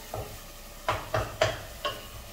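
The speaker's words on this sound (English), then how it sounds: "You poke and mash all the onions and the tomato cook well until you get this consistency." Cooked onion and tomato for sambar are poked and mashed in a pot, giving four or five short wet squelching scrapes in an uneven rhythm, close by and with no talking.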